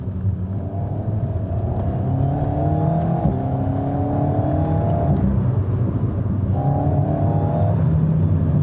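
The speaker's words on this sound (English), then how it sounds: "Blips nicely, you get a good like boom when you change gear." An Alpine A110 sports car engine pulls hard through the gears, a loud continuous drone climbing in pitch, breaking at each shift with a brief blip before rising again.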